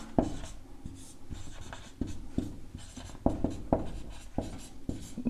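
Chalk or marker strokes on a board during a maths lesson make a series of quick, sharp taps and scratches in an uneven rhythm, close and fairly quiet, with no speech.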